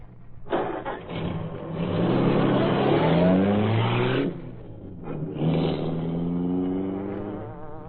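Green Hornet's car in a radio drama drives away, a loud engine rising and revving for about four seconds, briefly dropping off, then roaring again before fading slightly.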